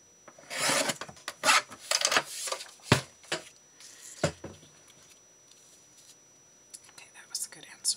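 Big scissors cut through die-cut paper in a series of close, crisp snips and rasping slices, irregular and bunched, with quiet gaps between strokes.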